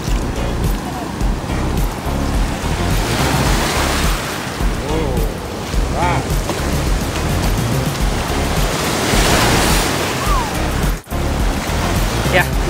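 Surf washing onto a shell-strewn beach near Cape Town, South Africa, a steady broadband wash of waves with some wind buffeting the microphone, continuous throughout and close by.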